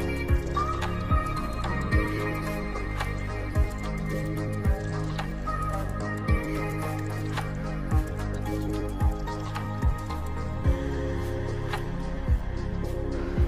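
Chopped onion, tomato, carrot and coriander being mixed into an oats and besan chilla batter, giving soft wet squishing with regular spoon taps against the bowl, close and fairly quiet.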